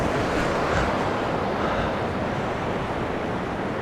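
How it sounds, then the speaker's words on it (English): A small waterfall and stream pour steadily on a Lake District walk near Coppermines, Coniston, a broad continuous rushing wash of water, close and loud with no break. "it's absolutely lovely because of the stream as well. But yeah, lovely little waterfall"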